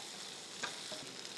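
Whole spices crackling in hot oil for a Maharashtrian egg curry, a steady close-up sizzle with a brief sharper pop partway through, no voices.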